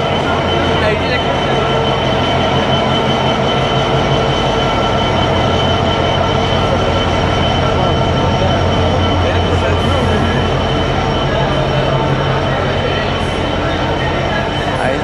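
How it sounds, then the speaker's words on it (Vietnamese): A passenger train in Egypt rumbles steadily and loudly throughout, a continuous low mechanical drone with faint rail noise, no talking. "ở Ai Cập là chỉ còn mỗi cái xe lửa này, bây giờ bọn mình mới đi thôi"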